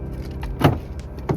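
A car unlocking with its key fob, a short chirp and clunk of the locks in a quiet setting, with a faint jingle of keys around it.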